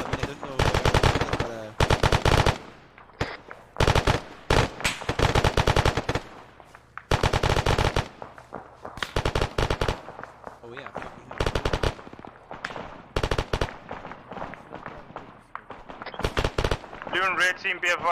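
Sustained machine gun fire in the Arma 3 military shooter, loud close bursts of rapid automatic shots repeating across the whole stretch, with talk over parts of it.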